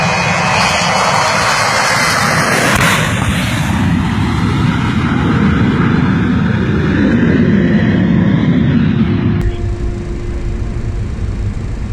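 Large cargo plane engines roar loudly and steadily up close, with a broad rushing drone and a shifting whine, then drop abruptly to a lower hum near the end.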